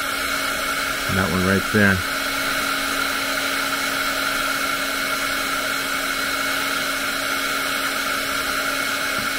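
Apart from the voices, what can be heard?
hair dryer drying a coffee painting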